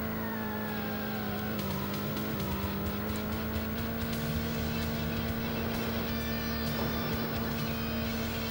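Racing car engines from a retro console driving game hum steadily at a constant pitch throughout, with small shifts as the car changes speed, close and loud and with no talking.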